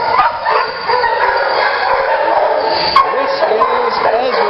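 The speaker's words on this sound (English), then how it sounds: "Needs a little work on her leash manners because she's a medium energy level dog." A medium-energy dog at an animal shelter yips and whimpers throughout, fairly close, with people talking over it.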